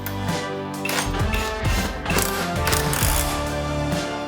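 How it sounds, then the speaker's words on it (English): Ratcheting torque wrench tightening suspension bolts on a BMW E46, loud close clicking in quick repeated bursts with a metallic mechanical rattle throughout. "We just need to torque everything and put back the torque strut"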